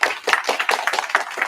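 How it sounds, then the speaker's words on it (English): A lecture audience gives brief applause, a scattered patter of hand claps at moderate volume with no voices. "So let's give her a round of applause."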